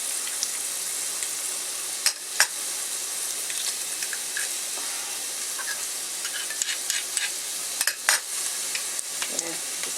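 Garlic sizzling and frying in a pan while being stirred, a steady hiss with scattered crackles and a few sharp scraping clicks from the spoon, close and continuous.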